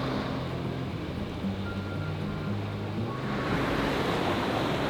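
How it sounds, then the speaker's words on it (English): Steady, loud bubbling and rushing water from a hot spring fills the scene continuously, a dense churning hiss that swells slightly near the end. "It's all bubbling over here."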